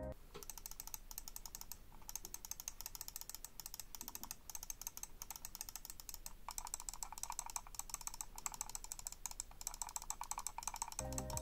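Main buttons of a Corsair Katar Pro mouse click rapidly and continuously, producing crisp, light, evenly repeated taps close to the microphone with no talking.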